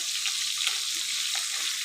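Pangas fish fries in hot oil with a steady, close, bright sizzle that runs through the short stretch without a break.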